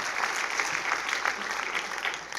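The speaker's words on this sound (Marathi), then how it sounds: "खरोखर त्यांच्यासाठी एकदा जोरदार टाळ्या झाल्या पाहिजे मित्रांनो." An audience at a business meeting claps together, a steady moderately loud patter of many hands with a faint voice underneath.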